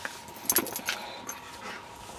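A dog pants and snuffles close by in quick, soft breathy bursts, with a couple of sharper huffs, fairly quiet against a calm room.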